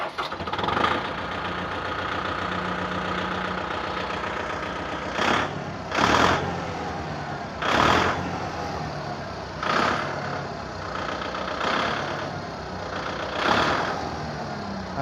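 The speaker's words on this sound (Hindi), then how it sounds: "ये मैंने ट्रैक्टर किया न्यूट्रल किया।" A tractor engine idles in neutral with a steady mid-range drone, swelling in a few short surges of revving at irregular intervals, with no one talking.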